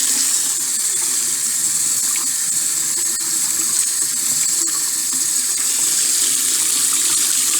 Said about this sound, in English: I'm going to rinse with hot water first, just because I want them really clean.